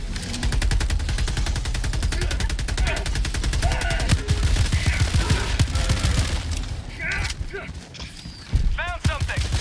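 Rapid automatic gunfire from the shooter game Helldivers 2 rattles almost nonstop, broken by short pauses and reload clicks, with a few chirping effects near the end and voices talking over the action.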